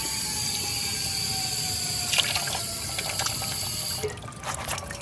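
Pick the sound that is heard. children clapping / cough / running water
running water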